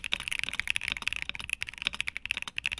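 Rapid, continuous typing on a Monsgeek M7W mechanical keyboard fitted with Akko linear switches, dense clacky keystrokes close up and fairly loud, with no talking.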